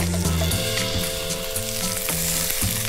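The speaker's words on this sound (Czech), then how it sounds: "Olej máme zohriatý, položíme špízy opekať." Lamb leg skewers frying in hot oil, a loud, dense sizzle running without a break, with a faint tonal hum beneath and no voices.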